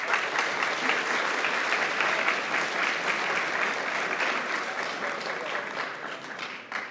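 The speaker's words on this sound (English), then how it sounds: "So can we have a round of applause for these guys?" Steady, dense applause from a hackathon closing ceremony crowd cheering the runners-up team, sustained at an even level and fading slightly toward the end.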